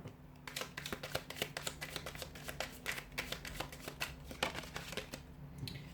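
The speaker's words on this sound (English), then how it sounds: "I'll just give the cards a shuffle" Tarot cards are shuffled in quick, repeated riffles and flicks, a close crisp clatter of card edges in a steady rhythm.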